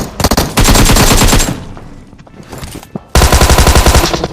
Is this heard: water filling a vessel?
no